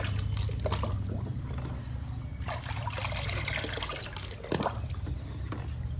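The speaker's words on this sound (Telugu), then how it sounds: "దానిమ్మ తొక్కల్ని మెత్తగా పేస్ట్ వేయడం వలన బాగా కలిసిపోయిందండి వాటర్లో" Pomegranate peel paste is mixed into water to make a liquid plant feed for indoor plants, giving a steady close trickling, sloshing sound with a few louder swishes.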